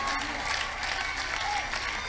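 Crowd clapping at an open-air church crusade in Abuja, a dense continuous patter of applause at moderate distance, with faint voices mixed in.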